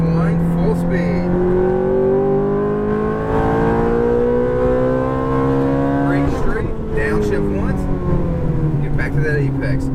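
A Ferrari F430 accelerates flat out on a race track, its engine note climbing steadily, briefly dipping at a gear change and climbing again, loud and close, with a voice talking over it.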